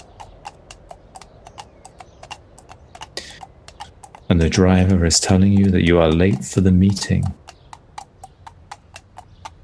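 Steady horse hooves clip-clop in an even rhythm beside a carriage, first alone and then continuing under a voice talking.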